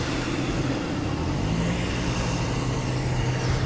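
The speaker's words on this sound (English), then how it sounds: "Sierra Cosworth." A Ford Sierra Cosworth arriving at a classic car show at Capesthorne Hall makes a steady, fairly loud engine rumble close by, with a constant low drone and no speech.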